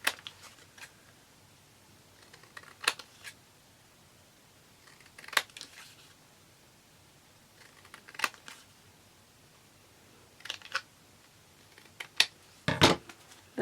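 Scissors cutting paper tags from an old map, quiet sparse snips and paper rustles spaced a few seconds apart, close and soft in a quiet room.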